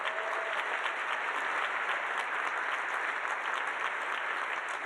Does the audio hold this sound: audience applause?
yes